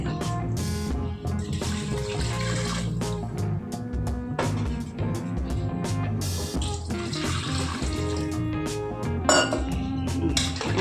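Rice-washing water is poured into a pot for country chicken soup in a home kitchen, a splashing, trickling pour mixed with clinks and knocks of pots and utensils, fairly close, with no talking.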